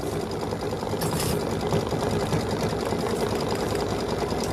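A sewing machine stitches a Flag House quilt block, a steady, close, continuous mechanical whir with a rapid repetitive chatter running through the whole stretch.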